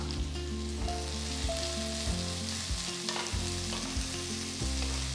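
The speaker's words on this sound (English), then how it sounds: "saute the onions till you get a nice golden brown color" Thinly sliced onions and chopped green chilli sizzling in hot spiced oil for egg masala, a steady, dense frying hiss with a few stirring scrapes, close and continuous, with no voices.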